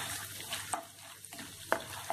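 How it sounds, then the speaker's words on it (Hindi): Urad dal is dry-roasted in a pan while making mixed vegetable upma, giving a light frying hiss under a few soft clicks and scrapes of a spatula. "इसमें मैं ये उड़द दाल डालूंगी, इसे भी भून लेती हूँ।"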